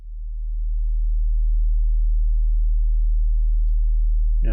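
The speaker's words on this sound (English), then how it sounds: "40 hertz, real low." A steady, loud 40 Hz sine test tone from an oscillator hums continuously after a brief fade-in, very low and pure, ending with a short click.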